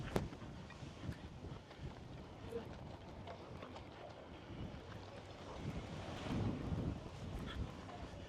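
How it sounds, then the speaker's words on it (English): Steady wind buffeting a microphone outdoors near an airport and a bus terminal construction site in Leon, Nicaragua, a continuous low rumbling roar that swells louder near the end. "we got some wind here"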